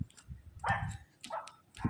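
A loose dog outdoors near houses and a gate gives a few short barks and yips, with a person calling out between them.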